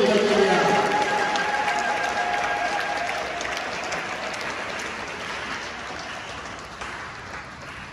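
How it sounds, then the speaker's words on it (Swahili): A church congregation at a joint Lutheran service claps for the pastors coming to the front, a broad sustained applause that slowly fades over several seconds, with some voices mixed in at the start. "Wanapokuja hapa mbele, makofi mengi kwa ajili yao."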